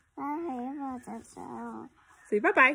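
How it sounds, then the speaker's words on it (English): Dogs whine and yelp in short bursts close by, mixed in with a person speaking over them. "Sorry about the dogs barking in the background."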